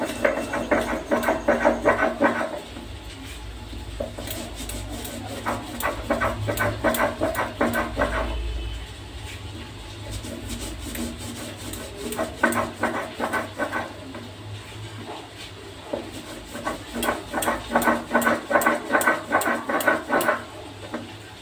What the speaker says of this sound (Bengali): এই যে পোস্তটা বাটতে বসে গেছি